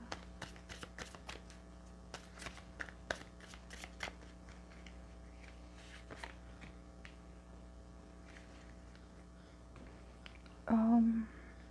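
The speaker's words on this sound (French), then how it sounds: "on va prendre une carte ici pour les Verseaux, mois de juin, côté cœur" Tarot cards are shuffled and drawn in a quiet room, with a long run of soft riffling and light taps over a steady electrical hum, then a brief voice near the end.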